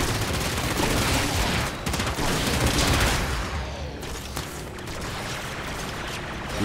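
Dense video game gunfire in Warframe, continuous rapid automatic shooting and impacts in a loud, chaotic firefight that carries on throughout without pause.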